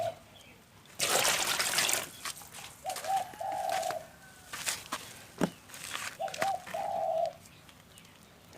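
Water trickling into the tray beneath seedling pots in two brief pours amid rustling and handling noise, faint and close, with a pigeon cooing softly in the background and no talking.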